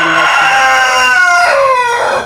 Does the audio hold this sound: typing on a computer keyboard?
no